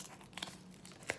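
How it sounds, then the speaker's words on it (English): Plastic wrapper of a Lego card pack being ripped open, a few quick, quiet crinkling tears close up with short pauses between them. "I ripped out the plastic."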